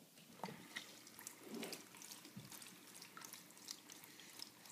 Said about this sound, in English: the water is falling and hitting this turbine